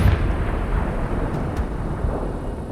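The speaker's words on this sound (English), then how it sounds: "I heard an explosion." Explosion in the Sniper: Ghost Warrior Contracts 2 video game, a loud low boom at the start rolling into a long rumbling tail that stays heavy throughout.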